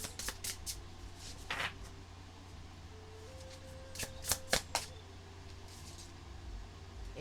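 A deck of tarot cards is shuffled in several bursts of riffling and sliding, close and fairly quiet over a faint steady hum, with the loudest flurry near the end.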